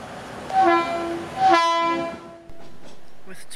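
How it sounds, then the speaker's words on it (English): New Hope Railroad train 8218 sounds two loud, close horn blasts, the first short and the second longer, then cuts off and leaves quiet rumbling behind. "Two blasts of the horn, they're off,"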